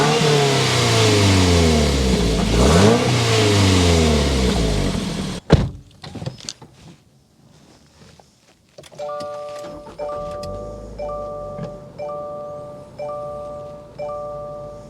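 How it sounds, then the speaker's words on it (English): A 2024 Toyota GR86 Trueno Edition engine revs hard with a deep, rising exhaust roar, then cuts off sharply; after a quiet moment, a repeating electronic chime sounds over a low idle. "so you can hear that exhaust note"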